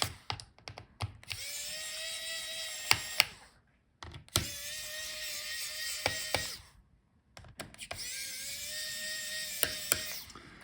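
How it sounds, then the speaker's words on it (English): Small electric screwdriver whirring in three long bursts, pitch sagging as each screw loosens, with clicks between, while heatsink screws are backed out of a Lenovo Legion 5 Pro 15 laptop; close and alone. "So unscrew all the screws."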